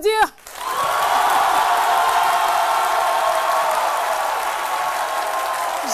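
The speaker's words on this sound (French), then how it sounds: "je vous demande de l'applaudir." A studio audience on a French-language midday TV show breaks into sustained applause right after a voice, the clapping dense and even, holding steady for several seconds.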